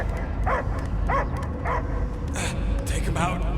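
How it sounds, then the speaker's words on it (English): In the Guardians of the Galaxy video game on PS5, a dog gives several short barks and yips at a steady pace, mixed with character voices talking. "I hear only barking."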